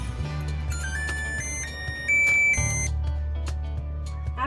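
A kitchen oven signals that preheating to 350 °F is finished with a series of clear electronic beeps over a low steady hum, near and fairly loud, with no talking.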